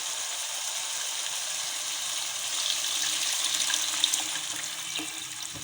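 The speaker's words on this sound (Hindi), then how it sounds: "अब मैं इसे इसके अंदर पानी डालूंगी" Water pouring into a pot of ghee while making chicken heart pulao, heard as a steady, close hiss and splash that holds evenly for several seconds with no voices over it.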